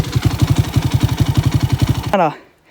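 Yamaha Raptor 700 quad engine stuck on a gravel pit hill climb, chugging in a steady rapid pulsing rhythm up close, then abruptly cutting out with a falling whine into near silence.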